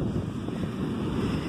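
Ocean waves break on the beach at Farol de São Tomé in Campos dos Goytacazes, Rio de Janeiro, heard as a steady, dense surf roar heavily buffeted by wind noise on the microphone.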